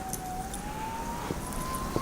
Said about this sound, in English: You can hear some sirens